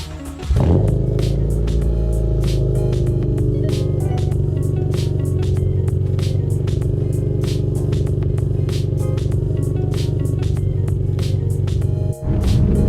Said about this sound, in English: Let's get the cold start going on the RS here